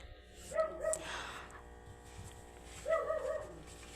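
A neighbor's dogs bark in the distance, two short clusters of yips and barks separated by a pause, faint over a low hum.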